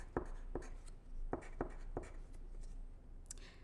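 Pencil writing numbers on a paper math worksheet, heard as a few short, quiet scratchy strokes spaced irregularly, close up with no talking.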